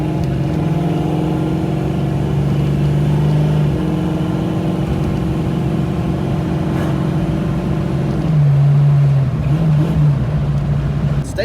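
A Ford Fox-body Mustang engine idles and hums steadily, its pitch shifting slightly as the car turns without rubbing; no voices, just the continuous low engine drone.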